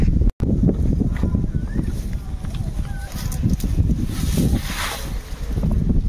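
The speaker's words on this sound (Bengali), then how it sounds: "হাওয়াটা উল্টে দিচ্ছে।" Steady wind buffeting outdoors in the Sundarbans, a continuous broadband rush with gusty swells and low rumble throughout, briefly cutting out near the start.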